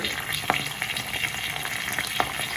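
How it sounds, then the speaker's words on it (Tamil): Onions hiss and sizzle in a frying pan of hot oil while a Jaffna-style fish curry is cooked, a steady close frying crackle with a few sharp pops throughout and no talking. "இப்போ வந்து வெங்காயத்தை போடுவோம்"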